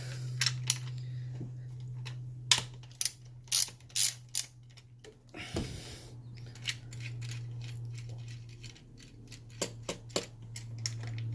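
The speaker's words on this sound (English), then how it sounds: "I just need to remove this 10mm bolt from here." A ratchet loosening a 10mm bolt on the valve cover of a 2014 Toyota Tacoma PreRunner V6, heard as scattered sharp clicks and short bursts of ratcheting over a steady low hum, close and fairly faint, no talk.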